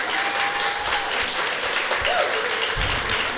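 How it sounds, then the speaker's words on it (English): An audience applauding at an evening event with the mayor of San Juan in Holyoke, a dense, continuous clapping that stays loud and steady throughout, with faint voices mixed in. "Go ahead, you can applaud."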